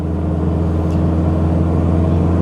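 Toyota Mighty X SGL pickup truck cruising in fifth gear, a steady low engine drone with road rumble, loud and close from inside the cab, no voices.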